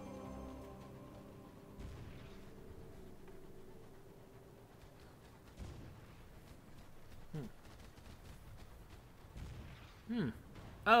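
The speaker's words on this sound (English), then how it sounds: "that's the sound of the little dreadnought there doing its whole turret nonsense" Muffled booms and sharp bursts from a small dreadnought's turret firing in Sunless Skies, a few irregular shots over a low rumbling game soundscape with faint music.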